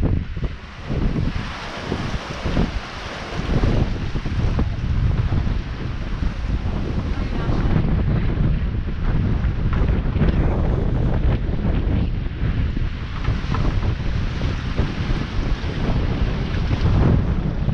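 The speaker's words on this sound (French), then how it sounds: "C'est une montagne d'eau qui arrive." A large ocean wave rolls toward a sailboat on a transatlantic crossing, heard as a loud, constant roar of wind buffeting the microphone over rushing, washing water.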